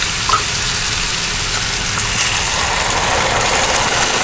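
Shrimp and cashews sautéing in a pan, with broth thickened with cornstarch poured in, giving a steady, dense frying sizzle that holds loud and even throughout with no voices.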